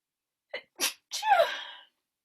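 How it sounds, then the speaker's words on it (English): A person sneezes once up close, with two sharp inhaled gasps leading into a loud, drawn-out sneeze. "I have to sneeze."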